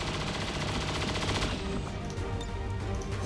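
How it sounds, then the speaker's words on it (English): Sustained suppressing fire in XCOM 2, a loud continuous rattle of rapid automatic shots up close that gives way partway through to quieter crackling and impacts. "Suppressing fire on target."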